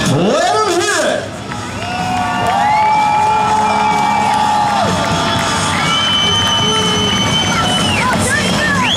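A crowd at a Summer Thunder sprint car series championship race cheers and whoops loudly, a sustained roar of many voices with high shouts rising over it.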